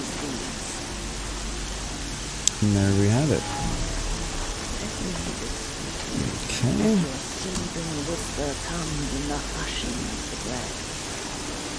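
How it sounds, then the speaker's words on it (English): Steady heavy rain hisses across a scene in Horizon Zero Dawn with a sudden sharp crack partway through, while voices talk over the downpour at intervals. "Raining like it's trying to wash everything away"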